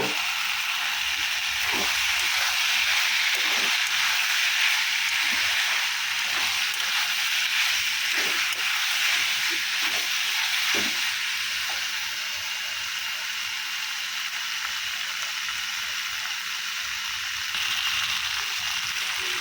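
Chicken keema and potato sautéed in a pan for ghugni, a loud steady hiss of frying that barely changes throughout, with occasional faint ticks and scrapes beneath it and no talking.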